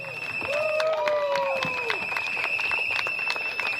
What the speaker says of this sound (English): Derek, give him a round of applause.